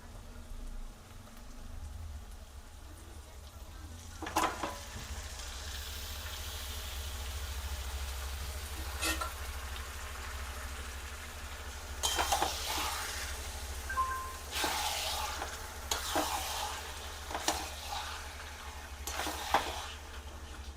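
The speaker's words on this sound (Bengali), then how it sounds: "মটনটাকে ভালো করে কষিয়ে নিই" Washed mutton pieces sizzle steadily in hot spiced oil while a spatula stirs and scrapes the pan in irregular bursts, close and fairly loud, with no one talking.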